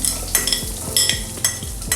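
Sliced onions frying for a Kerala-style chicken stew are stirred in a pan, the spoon scraping in several distinct strokes, about two per second, over a soft sizzle with no voices.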